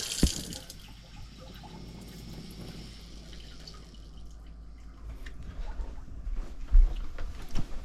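Water hisses and sputters steadily from a faucet as trapped residual pressure in the hose between a pump and the tap is released at a remote Alaska home, a continuous rushing spray with occasional drips and knocks.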